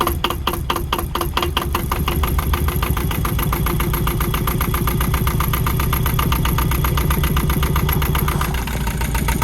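Yanmar 2QM20 marine diesel engine running steadily at idle, a loud, close, continuous rhythmic chugging and knock that barely changes, with no speech over it.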